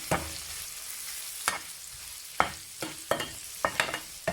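Rice and onion are stir-fried in a pan: a soft background sizzle broken by repeated sharp scrapes and clatters of the spatula against the pan at irregular intervals.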